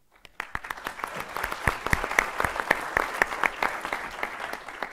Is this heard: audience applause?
yes